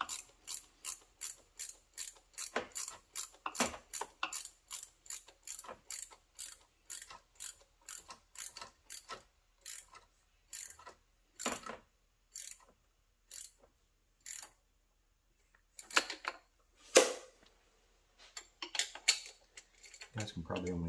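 A hand ratchet clicks in quick, close bursts as bolts are tightened down on a 1993 GMC Typhoon, with short runs of sharp pawl ticks separated by pauses.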